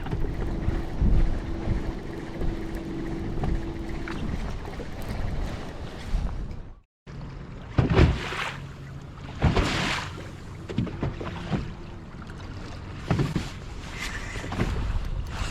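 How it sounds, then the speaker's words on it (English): A breeze blows over Sam Rayburn Lake, rumbling against the microphone on a bass boat in steady low gusts and mixing with faint water sloshing. The noise breaks off briefly midway, then returns with occasional knocks and clicks. "we got ourselves a little bit of a breeze out here today"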